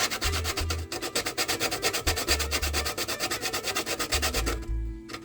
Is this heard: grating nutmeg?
yes